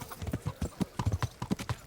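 Horse hooves clip-clop in a steady, close rhythm while riding in the medieval game Kingdom Come: Deliverance, with no other sounds.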